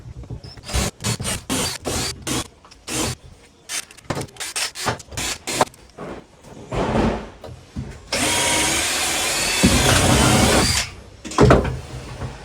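Rivets being drilled out of a box on an old Land Rover Defender gun bus: repeated short bursts of drilling and grinding, closing with one longer sustained drill run, close and loud.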